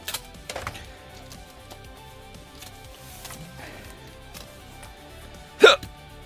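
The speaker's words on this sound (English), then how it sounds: "I got the hiccups again" A single hiccup pops out sharply near the end, set against a quiet background with faint mumbling or breathing earlier.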